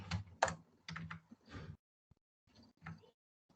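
Computer keyboard typing while coding a Node.js backend, heard as short clustered bursts of keystrokes with brief pauses between them, fairly faint and with no talk.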